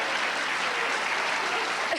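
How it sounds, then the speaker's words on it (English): Steady applause from a concert audience fills both seconds, a dense, even wash of clapping with no break. "And you guys will clap for anything."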